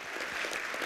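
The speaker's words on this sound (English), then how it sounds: "Let's clap for them." A short burst of audience applause for high school tech students volunteering at a county commissioner debate, a brief even patter of clapping from the crowd without speech.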